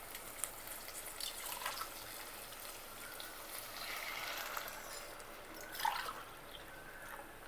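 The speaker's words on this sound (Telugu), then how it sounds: "1:3 నీళ్లు పోయాలి." Water poured into a cooking pot for rice, three parts water to one of rice, during preparation of a one-pot rajma masala and jeera pulao; a faint, steady trickling splash with no talk.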